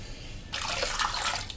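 Water splashes and pours into a vessel holding blackened silver utensils for cleaning; a quiet room tone suddenly gives way to a bright, close gurgling stream lasting about a second.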